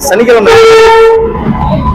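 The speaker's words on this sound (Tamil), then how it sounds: "பக்கத்தில் பாருங்க ஒரு ட்ரெயின் உள்ள வந்துட்டு இருக்கு" The Kacheguda–Madurai weekly superfast express pulls into a station, its loud horn sounding one sustained tone over rumbling rail noise, close by.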